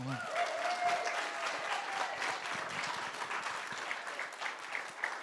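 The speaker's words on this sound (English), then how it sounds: "let's give them a round of applause." Sustained audience applause fills a guide dog graduation ceremony, a steady wash of many hands clapping at moderate volume, with a brief voice audible at the start.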